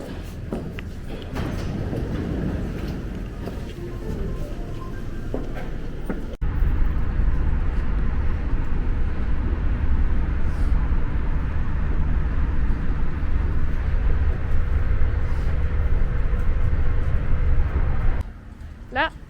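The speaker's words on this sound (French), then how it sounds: "Là je vais prendre le métro" A yellow Toulouse metro train ride: a steady low rumble and whir of the carriage that swells after a few seconds and cuts off near the end, with people talking over it at first.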